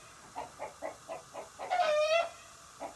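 A rooster clucks in a steady run of short, evenly spaced calls, then lets out a longer rising squawk before clucking again, fairly close with no talk.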